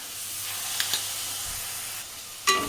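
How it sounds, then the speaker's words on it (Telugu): Yogurt added to a brinjal curry in a hot pan sends up a steady hissing sizzle, close and continuous, with a sharper burst of spitting near the end and no voices. "అలా కలుపుకున్న తర్వాత ఈ పెరుగుని ఇందులో వేసుకోవాలి"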